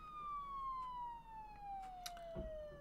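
A siren in the zombie survival game Project Zomboid wails in a steady falling tone at moderate distance, with a few faint clicks and a soft thump near the end.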